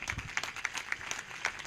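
A church congregation at a prayer service applauds, a steady patter of many hands with irregular sharper claps, heard faintly and at a distance.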